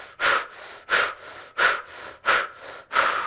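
Forceful breaths drawn and pushed out through the mouth in the blow breath technique, five sharp bursts in a steady rhythm, close and alone with short silences between.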